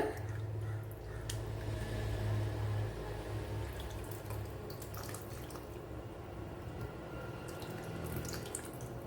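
Tamarind water poured into a pumpkin and okra curry in a pan, a soft steady splashing pour over low kitchen background noise, continuous and close.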